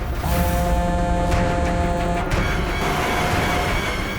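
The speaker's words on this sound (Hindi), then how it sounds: "अरे ट्रैफिक, अभी ट्रैफिक मिलना था क्या?" Road traffic rumbles loud and steady, a continuous wash of engine and road noise with tonal hums that shift partway through, no talk over it.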